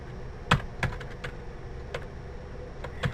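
Scattered, fairly quiet keystrokes on a computer keyboard as HTML head and body tags are entered, in an uneven rhythm with short pauses between presses.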